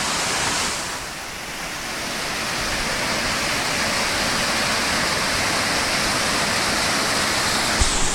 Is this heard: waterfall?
yes